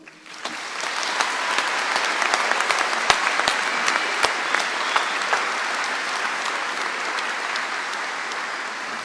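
Sustained applause rises from the audience at a 2017 WGU Tennessee commencement ceremony, a loud continuous clatter of many hands with a few sharper individual claps standing out, holding steady throughout.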